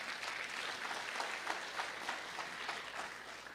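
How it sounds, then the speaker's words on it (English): Faint, distant audience applause at an Indian American diaspora meet-and-greet, a steady patter lasting a few seconds with no talk over it. "Please, he deserves a big round of applause."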